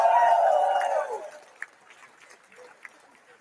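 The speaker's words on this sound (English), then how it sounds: "Give yourselves a round of applause." A rally crowd cheers and applauds loudly for about a second, then the noise drops off quickly to a few scattered claps and faint murmurs.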